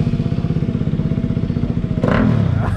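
A Bajaj Pulsar RS200 motorcycle fitted with a new Apollo Alpha H1 tyre runs nearby with a steady, pulsing engine putter. Near the end it revs up more loudly, and no one speaks.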